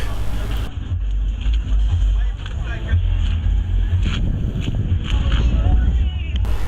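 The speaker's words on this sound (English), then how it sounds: "Look at this monster. Honda Valkyrie. 6 cylinders. Looks like a V8 engine out of a Chevy." Honda Valkyrie six-cylinder motorcycle engine at a Pattaya bike week, a steady loud low rumble idling close by with some wind buffeting and crowd noise around it.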